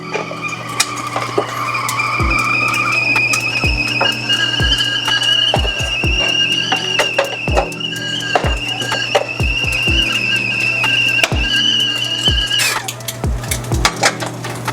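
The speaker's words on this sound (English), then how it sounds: "You can hear the kettle begin to scream." A kettle whistles with a steady, shrill, high tone throughout while ramen is being made, as pots and dishes clatter and clink repeatedly nearby.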